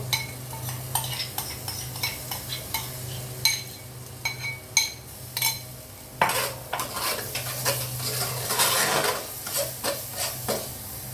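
Spice mix frying with fried onion paste for a mustard hilsa dish, sizzling steadily in the pan with repeated spoon scrapes and clinks against the vessel, close and clear, no talk.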